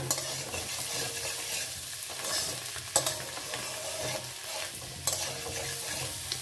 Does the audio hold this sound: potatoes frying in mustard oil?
yes